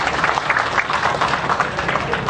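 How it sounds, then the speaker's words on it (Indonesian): An audience at an Islamic religious talk in Banyuwangi breaks into steady, dense applause from many hands, filling the whole stretch at a fairly loud level. "Saya nggak paham kenapa harus tepuk tangan para jamaah"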